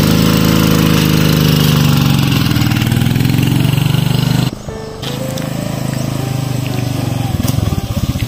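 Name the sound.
motorcycle engine running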